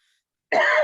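One short, harsh cough bursts out abruptly after a moment of silence, close and fairly loud.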